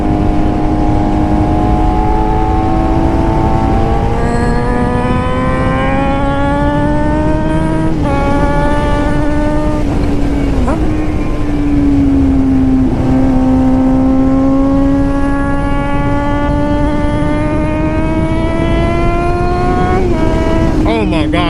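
A motorcycle engine revs loudly and continuously while riding, its pitch rising and falling through repeated throttle changes and gear shifts over a constant roar of wind.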